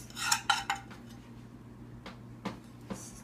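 Chicken and flour stirred in a pan, a metal utensil scraping and clinking against the cookware in a few quick strokes early on, then sparser taps and scrapes over a low steady hum.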